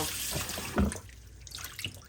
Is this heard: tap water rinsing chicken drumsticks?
yes